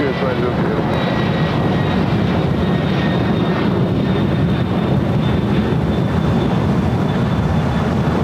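Heavy jet aircraft at LAX, including UPS 903 Heavy, make a loud steady roar of engine noise that holds for the whole stretch while radio voices talk over it.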